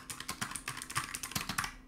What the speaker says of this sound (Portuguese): ele é realmente um teclado bem barulhento com esse switch purple aqui